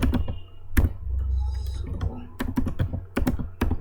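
Someone types on a computer keyboard with quick, close clicking keystrokes that come in irregular bursts, with short pauses between them.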